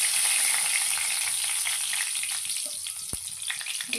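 Two split dried red chillies fry in hot mustard oil, giving a constant close sizzle with fine crackling spits and one sharp pop near the end.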